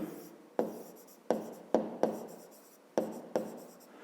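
A math formula is written out by hand for a fifth-grade perimeter exercise, six sharp, close tapping strokes of the pen or chalk spaced at irregular intervals over quiet.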